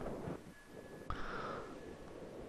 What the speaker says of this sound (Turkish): buraya gel çıktığınız zaman rüzgar sesi de geliyor